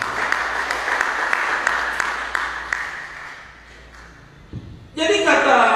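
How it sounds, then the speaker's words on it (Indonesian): A church congregation breaks into sustained applause and cheering that fills the room for several seconds, then fades as a preacher's amplified voice starts up. "Kita beri sorak-sorai dulu."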